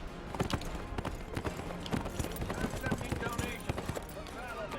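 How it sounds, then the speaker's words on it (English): Horse hooves in Neverwinter clip-clop in quick, regular beats at close range, with a voice talking over them for part of the time. "There's my horse."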